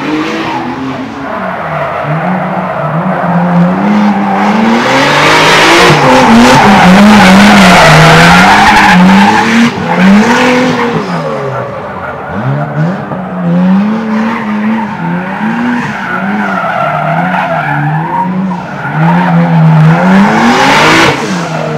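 A drift car spins on a test track with loud, sustained tire squeal and a revving engine rising and falling, close and continuous for over twenty seconds, with no voices.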